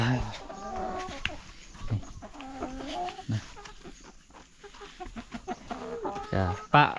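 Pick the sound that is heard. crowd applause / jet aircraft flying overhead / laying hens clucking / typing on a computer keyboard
laying hens clucking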